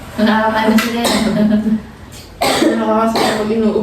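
Several harsh, close coughs in two bursts, raspy and loud, mixed in among people talking nearby.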